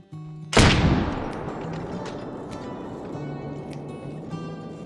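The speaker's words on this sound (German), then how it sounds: "Ich wollte einfach jetzt den Schuss nehmen." A single loud rifle gunshot in the hunting video game theHunter: Call of the Wild, a sharp crack followed by a long rolling echo that fades slowly over outdoor ambience with faint game tones.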